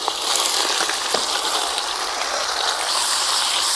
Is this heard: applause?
no